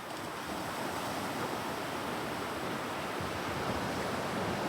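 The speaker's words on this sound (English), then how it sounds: "Made it to the Indian Ocean." Steady wash of Indian Ocean surf on the west coast of Australia, a constant broadband hiss of breaking waves with some wind, heard at an even, moderate level and no talking.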